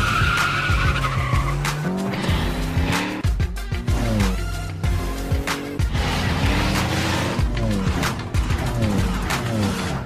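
Fast cars racing in a Fast & Furious 6 parody scene: engines roar and tires squeal and skid in loud repeated bursts, with cars whooshing past close by, continuous throughout.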